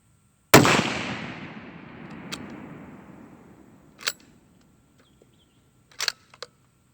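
A Ruger Frontier rifle fires a single sharp, loud shot during load testing, its report echoing and decaying over a few seconds, followed by a few faint metallic clicks and clatters.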